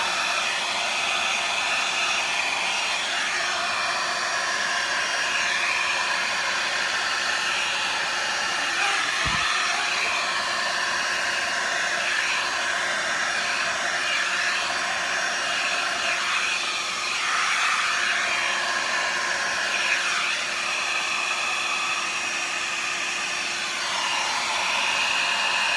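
A small hair dryer blasts continuously onto freshly poured satin enamel paint, a loud, steady whooshing drone held close for the whole stretch with no voices, just one brief low thump near the middle.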